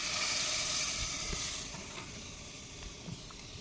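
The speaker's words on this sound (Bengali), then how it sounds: "দাদা এখন এই ডাল রান্না করছে" A big pot of dal (lentils) cooking on an outdoor fire during a fishing trip on the Matla River in the Sundarbans gives a steady, close hiss and sizzle that eases slightly partway through, with faint bubbling ticks.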